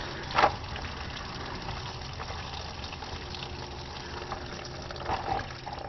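Antifreeze drains from the radiator petcock of a Honda Civic into a catch pan, a steady, close liquid trickle and gush with a few louder splashes, and no talking.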